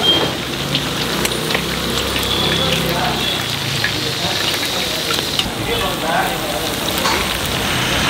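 Chicken sizzles in hot oil over a wood-fired stove in the kitchen of Anni Hotel in Marthandam, a dense, loud, continuous crackling fry heard close by.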